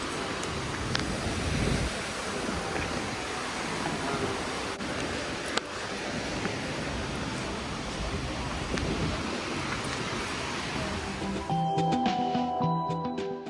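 Lower Yosemite Fall in Yosemite National Park, a broad steady roar of rushing water heard close up, with gusts of wind across the microphone and a brief clatter near the end.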